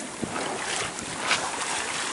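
Rough sea swell and large waves wash around a sailing boat at anchor off Dominica, a steady broadband rush of water with wind buffeting the microphone and no clear individual wave breaks.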